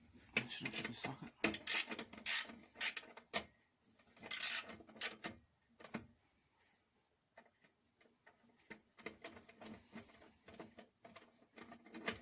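A socket wrench tightens a carburettor bolt on a Briggs and Stratton 35 Classic engine, giving quiet irregular ratcheting clicks in short bursts, close by, with a pause in the middle.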